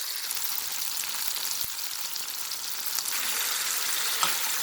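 Tomatoes sizzle steadily in a hot pan, a bright continuous hiss with a few faint clicks and stirring scrapes, close and without speech.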